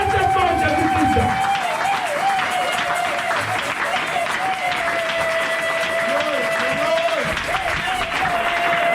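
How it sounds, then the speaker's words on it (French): A church congregation cheering and clapping in worship, sustained crowd applause with a voice calling out over it almost the whole time. "J'aimerais que vous lui acclamer très très très fort Jésus-Christ."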